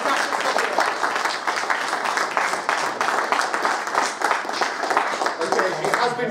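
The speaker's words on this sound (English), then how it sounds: "Can we have a round of applause for Mark Buttery, Andy Rixon, Paul Hodgson, and Andy Walker." An audience at PLAY Expo Blackpool applauds to welcome the Taskset founders at a 35-year reunion, with sustained clapping from a crowd and voices mixed in underneath.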